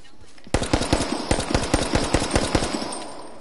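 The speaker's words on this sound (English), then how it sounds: "And do you hear a pistol shoot once?" Rapid bursts of gunfire in the survival shooter H1Z1, a dense run of sharp, loud shots fired in quick succession for about three seconds, with no talking over them.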